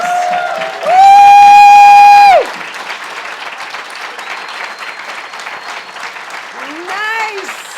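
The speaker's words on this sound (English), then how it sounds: "I would love to give y'all an amazing applause" Audience at a champion recognition ceremony applauding and cheering for the champions and their families, loud sustained clapping with a long high whoop near the start and another rising cheer near the end, crowd noise throughout.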